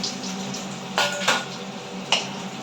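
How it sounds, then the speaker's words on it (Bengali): Fried koi fish lifted out of a pan, giving a few sharp metallic clinks of utensil against cookware over a low steady background hum, with no talking. "এবার তুলে নেব, মাছটা তুলে নিচ্ছি।"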